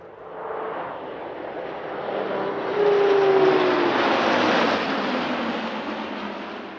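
An aircraft flying 60-degree wing rocks at the Paris-Villaroche airshow, its engine roar swelling as it nears, peaking loud in the middle with a rising whine, then easing slightly as it passes.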